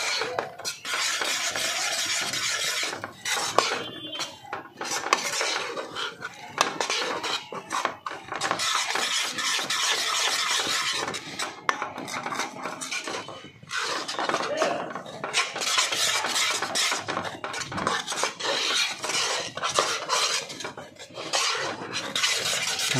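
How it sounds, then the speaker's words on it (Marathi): Sieved gram flour is stirred into a ghee and sugar syrup for Mysore Pak over a low flame, giving continuous close scraping and rasping strokes of a utensil in the pan, with brief pauses, no talk. "आता ह्यामध्ये चाळलेलं बेसन पीठ घालायचं आहे व स्लो गॅसवरच हे सगळं मिश्रण ढवळून घ्यायचं आहे."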